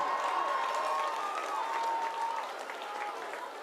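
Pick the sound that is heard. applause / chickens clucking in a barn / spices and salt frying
applause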